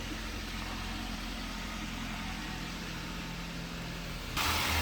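A 2007 Toyota Avanza type G VVTi engine idles steadily with a low, even hum throughout, closely recorded and without talk.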